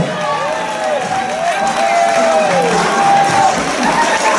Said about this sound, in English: I want a bigger round of applause, a massive round of applause for our Rachel.